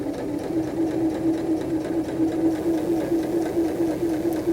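A sewing machine stitches a curved seam and back stitches, a rapid steady mechanical hum and clatter running continuously at close range without talk.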